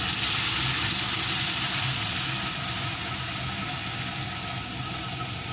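Soyabean kofta balls frying in hot oil over a low gas flame, a constant dense bubbling sizzle heard up close, slightly easing toward the end, with no voices.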